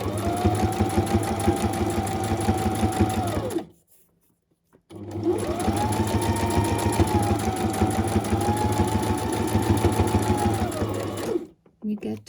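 A sewing machine stitches small fabric scraps in two long runs of steady, fast mechanical whirring and needle clatter, close and loud, separated by a short pause and ending with a brief final burst.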